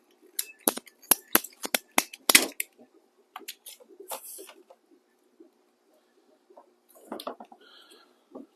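Plastic water line pipes being cut with a snipping cutter on a table, a quick series of sharp crunching snaps up close, then sparser clicks and handling noises.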